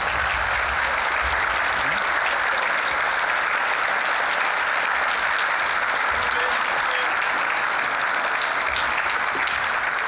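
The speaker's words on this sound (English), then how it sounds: "please stand up and give him a warm applause." An audience at a keynote talk breaks into sustained, dense applause, a steady wash of clapping from a large crowd that holds for about ten seconds without a break.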